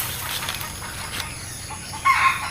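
Chickens cluck and flap their wings nearby, with a sharper burst of clucking near the end over a steady outdoor background.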